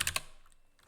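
A quick burst of three or four keystrokes on a computer keyboard, close and crisp, then faint clicking trails off into near silence.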